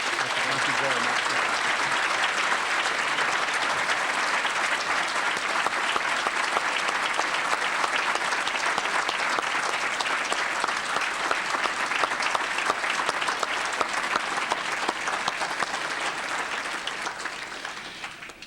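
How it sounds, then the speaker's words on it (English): A large audience gives sustained applause after a governor's State of the State speech, a dense, even roar of clapping holding steady for a long stretch before tapering slightly at the end. "The applause was long enough for me to get the information that I need"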